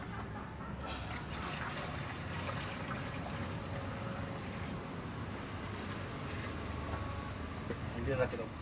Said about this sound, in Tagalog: Ito ang isang balding tubig dito natin ilagay sa gitna.